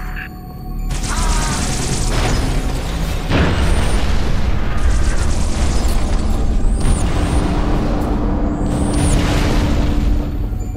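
Artillery final protective fire pounding a battlefield in Halo: Reach, a loud continuous rumble of overlapping booms with sharper blasts around three seconds in, while smaller game effects and faint radio chatter sit beneath.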